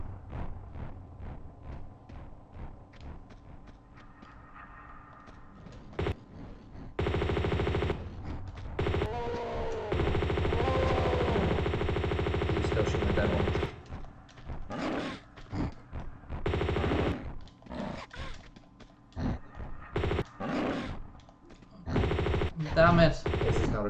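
Uzi fire in Tomb Raider 2, with long loud bursts of rapid automatic shots and shorter volleys, separated by brief pauses and growling animals, and occasional talk.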